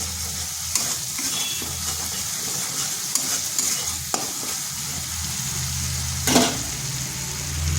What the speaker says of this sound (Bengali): এরপর ভালো করে মশলাটা কষে নিচ্ছি।